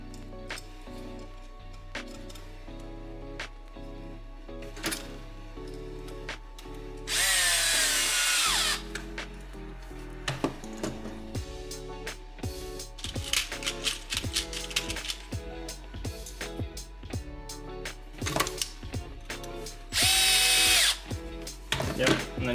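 Power drill driving screws into plastic robot kit parts, two sustained high whirring bursts about a second or more each, close and loud, with softer clicks and handling noises and background music throughout.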